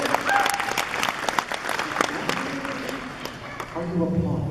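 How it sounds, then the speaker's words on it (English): Audience applause fills a fan expo hall for a guest, steady dense clapping with crowd murmur and a voice speaking over it. "Are you applauding?"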